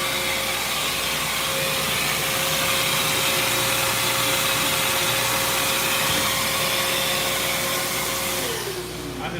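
A vacuum cleaner runs loud and close with a constant whine and steady roar, holding evenly for several seconds before its motor note dips near the end.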